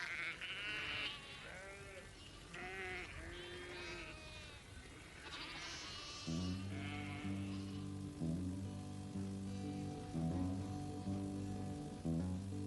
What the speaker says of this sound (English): we've got one sheep that's very, very friendly